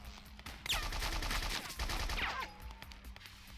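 Gunfire in the PC video game BloodRayne, a burst of rapid shots with ricochet-like whines layered over game background noise, dense and fairly loud across the short stretch.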